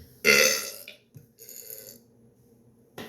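Loud, deliberate burping: one long, forceful belch followed by a short grunt and a softer, drawn-out second burp, ending with a brief clipped onset.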